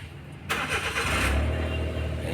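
A Suzuki DA64 minivan with a check-engine-light fault and weak pulling power cranks and fires up abruptly, then settles into a steady, close engine hum with a slight rev.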